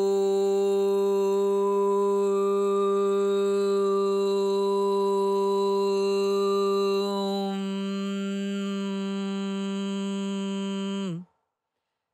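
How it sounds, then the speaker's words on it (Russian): A sustained vocal OM chant in a yoga setting holds one steady, rich, harmonic tone for about eleven seconds, shifting slightly in colour partway through before cutting off abruptly. "да, это есть звук ОМ"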